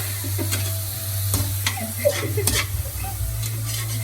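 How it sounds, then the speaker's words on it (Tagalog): A utensil stirs food frying in a pan during home cooking, scraping and clattering in uneven strokes over a continuous sizzle and a steady low hum, close and fairly loud. "Ayan, haluin lang natin."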